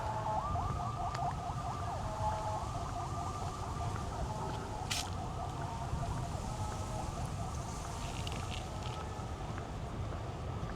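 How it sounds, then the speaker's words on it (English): A wailing ambulance siren sounds in the distance, faint and rising and falling early on, over a low hum of city background in Thu Thiem District, Ho Chi Minh City. "besides that ambulance."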